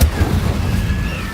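An Incendio fire spell goes off in Hogwarts Legacy with a sudden loud boom, followed by a short rumbling roar of flame that stays strong to the end.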